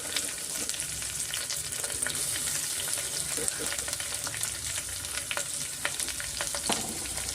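Onion with a pinch of salt frying in a pan for a country-style tomato bath, a steady close sizzle with scattered crackles and occasional stirring scrapes throughout.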